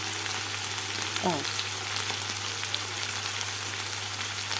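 Finely chopped onions sauté in a pan for a leftover beef sandwich, a quiet steady sizzle with a brief scrape near the start and a low hum underneath.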